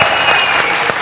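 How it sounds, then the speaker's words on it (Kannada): Loud studio audience applause for a comedy skit on a Kannada TV show, a dense burst of clapping from a large crowd, close and sustained through the whole moment. "ಒಂದ್ಸಲ ಜೋರಾದ ಚಪ್ಪಾಳೆ ಬಂದ್ಬಿಡ್ಲಿ"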